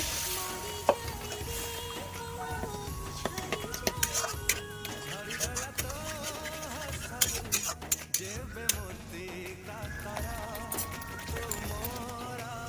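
Spice masala of cumin and Kashmiri chilli powder is stirred in a pan, giving a busy, steady run of metallic utensil scrapes and clinks against the pan at moderate loudness.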